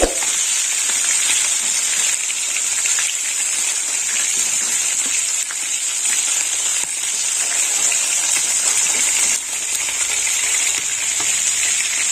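Kachkel fish sizzles in hot oil with a steady, bright crackling that carries on evenly throughout, with no talking.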